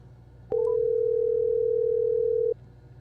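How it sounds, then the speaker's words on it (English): A single steady telephone tone sounds for about two seconds at a clear, even level over a faint hum, marking an outgoing call being placed during a Mother's Day live stream. "So we're going to dial her up here."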